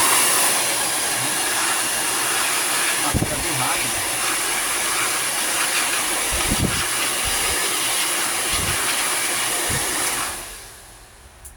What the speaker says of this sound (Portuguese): Eu prefiro usar o secador, gente.